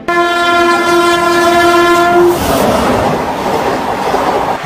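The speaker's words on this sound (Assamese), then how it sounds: "দ্ৰুতগতিত আহি আছে এখন ট্ৰেইন।" A loud, steady train horn blares for a couple of seconds as a fast train roars past, the rushing noise continuing after the horn stops.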